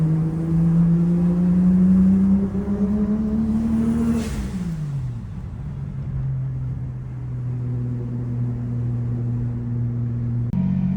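A car with a rebuilt engine drives along, its steady engine drone rising in pitch as it accelerates, then dropping and settling into a constant cruising hum, loud and close, with no talking.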